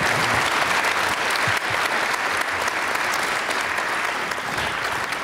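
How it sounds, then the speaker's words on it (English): Large convocation audience applauding a panel in a hall, dense continuous clapping at a loud, even level throughout. "let's give them a round of applause"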